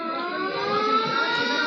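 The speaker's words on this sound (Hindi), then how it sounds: "ये सायरन की आवाज़ सुनाई दे रही है" A civil defense siren sounds during a mock emergency drill at NDMC in New Delhi, holding a steady, harmonic-rich wail throughout at a fairly loud, even level, with no talk.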